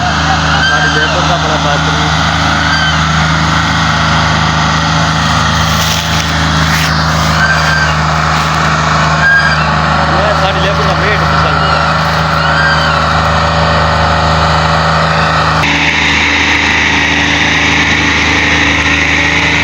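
A loud tractor engine idles steadily throughout, with a constant low rumble and some higher mechanical whine on top, beside a trolley being loaded.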